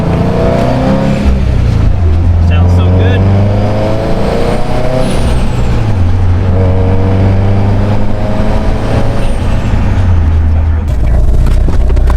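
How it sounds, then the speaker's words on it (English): A car engine drones loudly up close, revving and easing off with turbo whistle rising over it; a voice speaks briefly under the engine. "We'll give them some turbo noises here."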